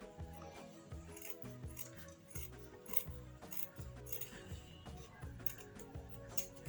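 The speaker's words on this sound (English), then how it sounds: "then I cut out this excess" Scissors snipping away excess fabric from a princess dart on a bodice, a series of close, crisp cuts in uneven rhythm.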